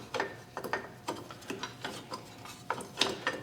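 Rear drum brake star-wheel adjuster on a 2001 Mazda Protege being turned with a tool, giving a series of close, quiet metallic clicks and scraping rasps at an uneven rhythm, roughly ten small ratcheting ticks with no speech.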